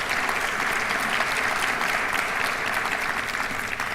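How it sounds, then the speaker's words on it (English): A crowd applauds at a campus strategic plan forum, honoring a special assistant to the president; the clapping is thick, even and continuous throughout. "Would you give her a round of applause for her leadership?"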